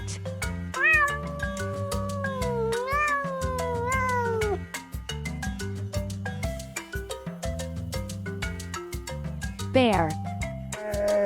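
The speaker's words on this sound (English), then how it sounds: "Cat." Several cat meows, clear and close, one after another over a steady looping children's music backing, with a rising cry near the end.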